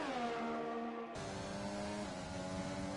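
F1 race cars in a video game blasting down the main straight, a loud steady high-revving engine whine that shifts up partway through; no talk.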